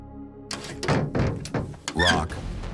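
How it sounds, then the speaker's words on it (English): A door bursts open in a narrated story, a sharp thunk with a brief squeak followed by a few more knocking thumps, close and fairly loud, with no speech over it. "bursts through the door"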